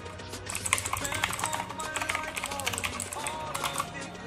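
Fast typing on a Redragon Kumara K552 mechanical gaming keyboard with blue switches, close and loud, with dense rapid clicks and clacks in irregular bursts while a person talks over it.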